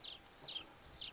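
Fighting rooster of a village native breed, kept for cooking, gives three short clucking calls in quick succession. The calls are faint and close, with quiet background and no talking.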